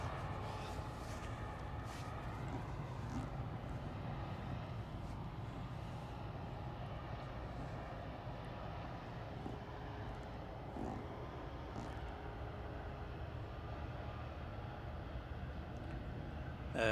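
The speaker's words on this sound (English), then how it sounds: "the Qatar is now taxiing out for departure" A Qatar Airways airliner taxiing out for departure at Manchester Airport, a low, steady distant engine rumble and whine, faint and continuous outdoors, with no talk.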